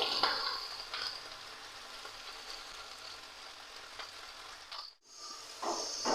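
Pumpkin, eggplant and pui shak greens with mustard fry quietly in a pan, a soft, steady sizzle with a few faint scraping stirs, dropping out briefly near the end before resuming.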